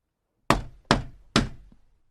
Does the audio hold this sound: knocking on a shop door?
yes